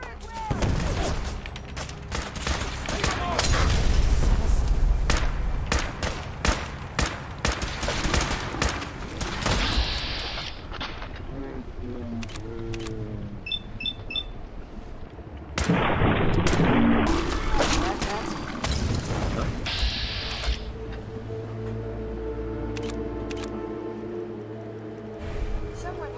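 Heavy gunfire in the video game Fallout 4, dense volleys of shots and bursts with booming blasts during a firefight, loud and sustained, dropping to sporadic shots, with shouted voices at times.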